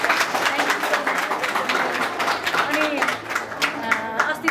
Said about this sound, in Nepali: हामी सबैजना जोरदार ताली बजाउँछौँ